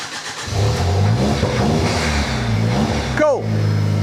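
A Vortex V2 car's engine cranks and starts on a push button, then revs with a steady mid-pitched roar and a sharp rising rev burst near the end, fairly loud and close.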